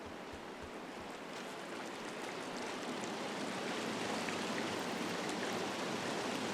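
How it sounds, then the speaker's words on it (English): Steady broadband rush of a flowing river in the video game Firewatch, a continuous even wash of water noise that swells slightly louder and holds without pause throughout. "Hop across this river."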